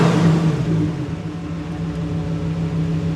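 A Lamborghini Huracan Performante engine in Strada mode revs up, a loud low droning roar heard from inside the cabin that eases into a steady, slightly quieter hum.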